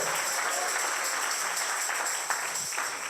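Church congregation applauding steadily throughout, a dense, continuous wash of many hands clapping together at fairly close range, with no talking over it.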